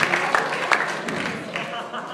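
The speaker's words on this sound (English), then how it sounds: "now I'd like everybody else to give them a round of applause for coming out and being social tonight" Scattered audience applause at a comedy night show, a brief burst of clapping from a crowd that stays moderately loud, with a voice talking over it.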